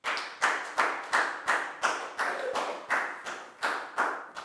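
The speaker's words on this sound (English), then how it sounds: "High five and a big round of applause for Prel, please, guys." Rhythmic hand claps from a primary school class, about a dozen sharp, evenly spaced claps in unison, clear and close with no talk.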